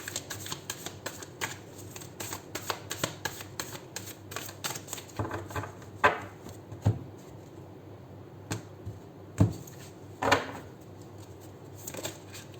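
Angel Ancestors Tarot cards are shuffled by hand, soft quick riffling and tapping with a few sharper card snaps, close and quiet with no talk.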